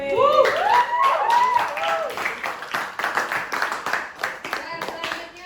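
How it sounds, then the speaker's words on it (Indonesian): A classroom group applauds together, a dense crowd of hand claps from students filling the room, steady and moderately loud, with voices calling out over the clapping. "Kelompok 1 tepuk tangan dulu."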